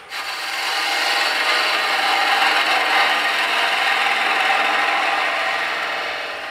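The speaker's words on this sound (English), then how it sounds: "This is a beading parting tool, which I like to use." A beading parting tool cutting into wood spinning on a lathe for a birdhouse ornament, giving a steady, close, rasping scrape that swells in and fades out with no talking.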